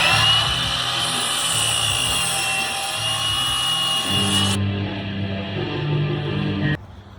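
A power saw cutting painted wooden boards to length for a raised garden bed: a loud continuous whining drone with a grinding rasp, shifting pitch partway through before cutting off near the end.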